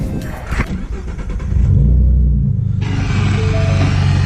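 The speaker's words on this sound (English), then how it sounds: "give it a few revs" A 2016 Ford Mustang 3.7 V6 engine with an aftermarket exhaust revs up from idle into a deep, rumbling roar, holding a throaty, steady drone close by before settling slightly.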